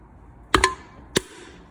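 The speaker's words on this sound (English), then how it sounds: "So let's just make a dent here right in the center." Two quick metallic crunches as an aluminium soda can is dented in the center, close and sharp, followed by a third single crunch about half a second later, with quiet in between.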